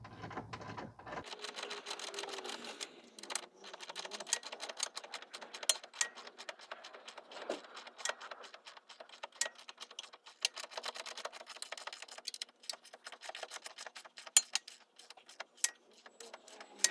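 A ratchet tightens the lower control arm suspension bolts on a 2009 Pontiac Vibe 2.4, giving a long run of rapid, irregular, close-up clicks with brief pauses and no talking.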